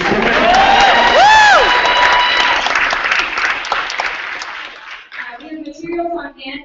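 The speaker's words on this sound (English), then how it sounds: "you want to clap for that, you can" An audience at an MIT breast pump hackathon breaks into applause mixed with a few cheers, loud and dense before thinning out, with a voice briefly heard near the end.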